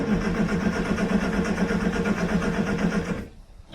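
A Morris Minor engine chugs close and loud in a rough, pulsing rhythm for about three seconds, then cuts out abruptly into near silence.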